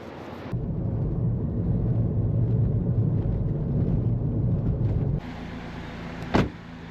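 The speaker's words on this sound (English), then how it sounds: "we're going to jump back in the car and head to the trench" A car in Samoa near an ocean swimming trench carries passengers along the road, with a low, steady engine and road rumble inside the cabin, then a sudden drop in noise near the end followed by a sharp bump.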